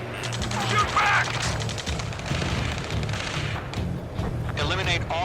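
Gunfire and heavy explosive booms in the Ace Combat 7 combat flight game, a dense continuous barrage of shots and thuds throughout, with shouted radio voices talking over it.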